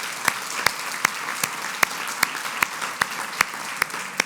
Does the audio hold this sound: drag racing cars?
no